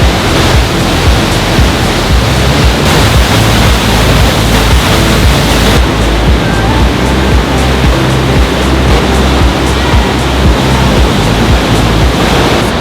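Loud, steady roar of a powerful waterfall in the mountains near Ouray, Colorado, a dense unbroken rush of falling water heard up close with some wind buffeting the microphone throughout.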